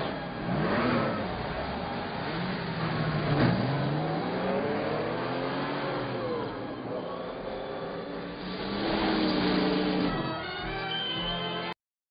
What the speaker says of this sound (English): Autobots, start your engines!